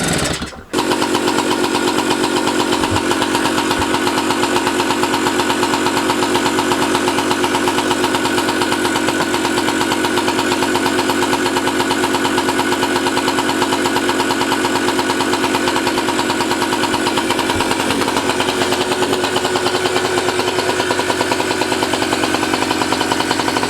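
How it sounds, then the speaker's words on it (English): A free scooter engine, just started without choke, settles into a loud, steady idle with an even rapid putter that runs close and unbroken for over twenty seconds. "Just let it idle for a couple of minutes."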